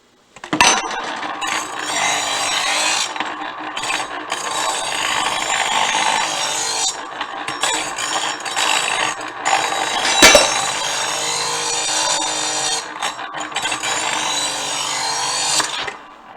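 A harsh grinding rasp of a knife blade against a spinning sanding disc runs continuously, with brief pauses and a sharp clack partway through.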